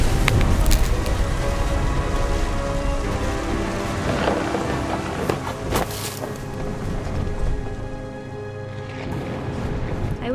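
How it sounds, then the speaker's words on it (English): A thunderstorm in the video game What Remains of Edith Finch: heavy steady rain with deep rolling thunder and a few sharp cracks close by, fading slightly toward the end. "The thunder sounded much too close and full of angry power."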